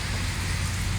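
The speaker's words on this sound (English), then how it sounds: "Ooh, that's big raindrops." Steady, dense patter of heavy rain pouring down, loud and continuous with no voices.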